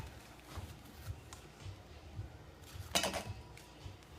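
Squash halves set down on a baking sheet: soft scattered knocks and one brighter metallic clatter from the pan, quiet and close in a kitchen.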